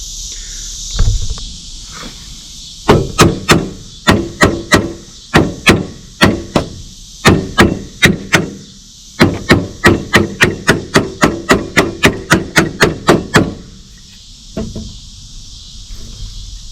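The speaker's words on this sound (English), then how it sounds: "I'm going to tap this flywheel a little bit" Sharp metallic taps on a flywheel being seated in place, a long steady series of evenly spaced knocks, close and fairly loud, with a few scattered hits before and after.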